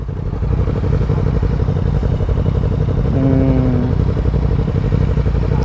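A Yamaha MT-09 motorcycle engine drones loud and steady while riding, with a short higher whine partway through and no clearly separate quickshifter gear changes.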